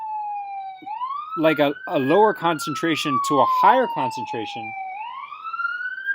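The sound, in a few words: ambulance siren passing outside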